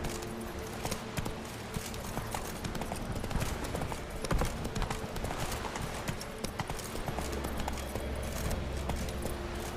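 Hooves of a horse clatter in a quick, uneven galloping rhythm during play of The Witcher 3, fairly faint against game ambience, with brief speech cutting in.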